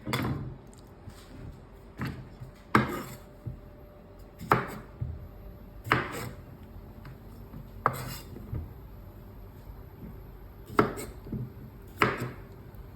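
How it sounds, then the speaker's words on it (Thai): A knife chops food into small pieces for a Thai dish, giving sharp, irregular thuds on a board roughly every second or two, close and clear over quiet kitchen background. "โอเคแล้วก็หั่น เป็นชิ้นเล็ก ๆๆแบบนี้นะครับ"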